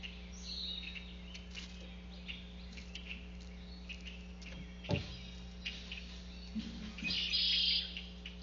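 Small birds at a backyard feeder stocked with cracked corn chirp and tweet in short, scattered calls, fairly faint over a steady low background hum, with a louder burst of chirps toward the end.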